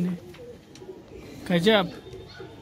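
Pigeons coo in a rooftop flock during a pigeon-keeping fight, one clear throaty coo standing out near the middle among softer calls, with a voice briefly heard.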